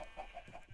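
Chickens in the Minecraft video game give a few short, soft, rhythmic clucks in quick succession, faint and close.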